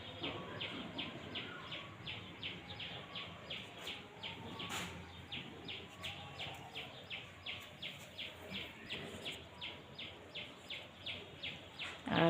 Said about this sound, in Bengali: আর সবাই শুনতে পাচ্ছেন পাখির কলরব